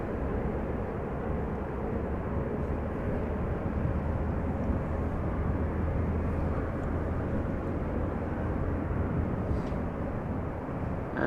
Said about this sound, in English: Embraer 175 arriving from Frankfurt will be next